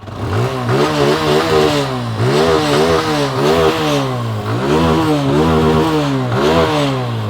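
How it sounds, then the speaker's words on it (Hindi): A TVS Apache 160 or Bajaj Pulsar N160 motorcycle engine revs again and again in a steady rhythm, the loud exhaust note rising and falling with each throttle blip. "इंजन साउंड सुनिए, एग्जॉस्ट नोट, थ्रॉटल देता हूँ"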